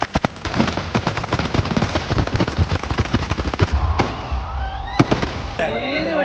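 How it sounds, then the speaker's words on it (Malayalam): Thiruvambadi fireworks at the Thrissur Pooram festival crackle and burst in dense rapid volleys, then give way to a few sharp booms and whistling rockets, with crowd voices faintly underneath. "തിരുവമ്പാടിയുടെ വെടിക്കെട്ട് ഇപ്പൊ തുടങ്ങും."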